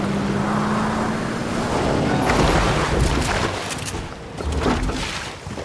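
A car drives in the Fortnite video game, a steady broadband engine and road rumble with a faint humming tone, swelling and easing slightly over the few seconds with no talk.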